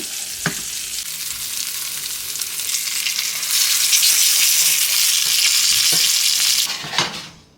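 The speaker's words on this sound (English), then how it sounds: "just make sure y'all continuously stir up this pasta" Creamy salmon alfredo pasta stirred continuously in a hot pan, a steady loud sizzle and wet scraping that swells midway and holds, with a few utensil knocks against the pan, close up.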